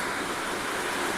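Steady rain falling outside a village house in Gujarat makes a dense, even hiss throughout, soft and continuous with no voices.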